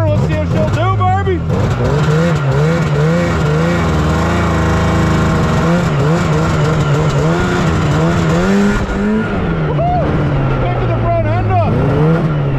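Engine of a Yamaha Phazer snowmobile with new plugs, old gas and old oil, running near after a pull-start repair, loud and continuous with rising and falling revs as it rips around a yard, with shouting over it.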